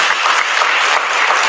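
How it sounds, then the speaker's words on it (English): A conference speaker-series audience applauds, a dense loud burst of many hands clapping at once without letup. "Round of applause, please, for everybody."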